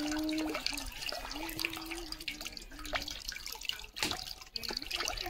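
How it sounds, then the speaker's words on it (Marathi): Water drains and drips from freshly washed vegetables held in a basket, a close trickle with scattered splashes and droplets, fairly quiet and without talk. "सगळं नाव पाणी काढून घ्यायचं."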